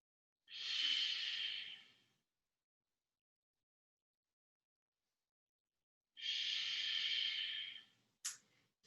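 Deep yoga breathing during a vinyasa practice: two long, close, airy breaths about five seconds apart, each lasting under two seconds, with silence between and a short faint sniff at the end.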